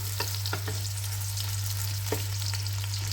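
Onions frying in a pan, heading toward golden before chicken goes in, a steady close sizzle with occasional stirring scrapes over a constant low hum.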